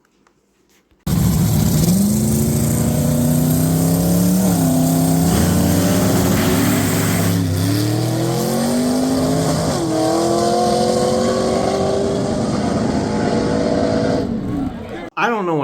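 A drag race car engine at an outlaw drag racing event roars loud and steady with rising harmonic sweeps, then drops in pitch as the driver lifts off the throttle, cutting off near the end.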